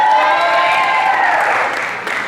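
Loud, steady applause with some cheering from an awards-night crowd honoring graduating Lady Raider athletes, sustained throughout before easing slightly near the end.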